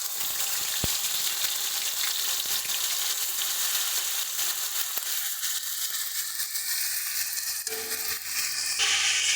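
Onion paste and whole garam masala fry in oil, a dense continuous close sizzle with occasional stirring scrapes, building slightly toward the end, with no voices.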